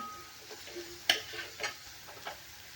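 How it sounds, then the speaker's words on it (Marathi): Chopped onion sautéing in a pan for a chutney: a faint, low sizzle under a few sharp, scattered clicks and taps of stirring. "तर हे कांदा मी चांगला परतून घेणार आहे"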